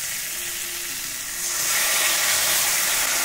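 Ground spice paste is dropped into hot oil with fried potatoes in the pan, and the frying swells from a steady hiss into a louder, brighter sizzle partway through, with no speech.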